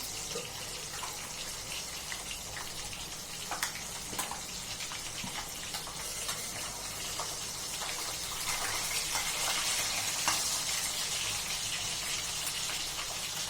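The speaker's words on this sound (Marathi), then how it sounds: "गॅस कमी ठेवूया बांगडा फिर फ्राय करताना आणि त्यावर झाकण घेऊया" Mackerel (bangda) fish frying on low heat in a covered pan, giving a steady, even hiss like running water that swells slightly toward the end, with no talking.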